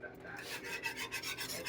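A whisk stirs in a pot of clam chowder with a close, continuous scraping and rubbing in quick rhythmic strokes.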